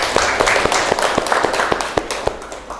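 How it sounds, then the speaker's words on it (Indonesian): Students in a classroom clapping, a loose run of sharp, distinct claps from a small group, fairly close and uneven in rhythm, with no voices. "Beri tepuk tangan untuk kalian semuanya."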